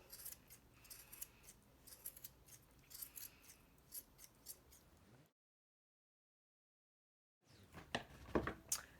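Scissors trim a yarn pom pom, quick crisp snips in an uneven, close run that stop for about two seconds of silence and then start again.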